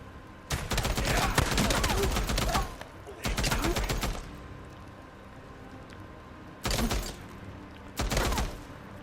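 Gunfire in the Days Gone video game comes in four separate loud, rapid bursts of crackling automatic shots, with short quiet gaps of game ambience between them.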